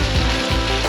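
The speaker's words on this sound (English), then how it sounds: "in the beef chunks and sear them until they are browned on all sides" Beef chunks sear in a hot pot with a loud, steady sizzle that holds through the whole second without a pause.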